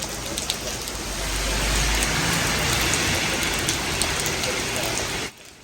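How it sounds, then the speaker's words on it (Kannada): Heavy rain pours down on a cold evening, a dense, steady roar of drops on surfaces that holds loud throughout and then stops abruptly at the end. "ಜೋರಾಗಿ ಮಳೆ ಸುರಿತಾ ಇದೆ ಒಳ್ಳೆ ಚಳಿ ಚಳಿ ವಾತಾವರಣ"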